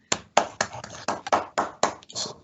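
A small online-event audience claps in several short bursts: about eight sharp, separate pulses of hand claps, close and moderately loud, with no talking over them.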